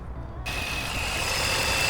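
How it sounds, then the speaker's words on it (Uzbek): A Chevrolet Tracker 2 or Kia Sonet engine idles with a steady low hum and a thin high whine, rising in after a moment of quiet. "Mana motorni ovozi."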